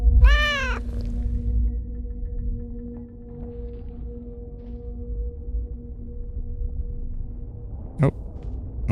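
In a dark horror video game, a cat lets out one long, drawn-out, wavering meow near the start. A steady low ambient drone runs underneath, and a sharp brief sound comes near the end.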